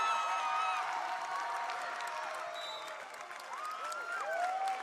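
Wolverine fans at a high school basketball game between SF Waldorf and Valley Christian send up a sustained wash of crowd noise and cheering, steady and fairly distant, with whistle-like squeaks and shouts rising through it.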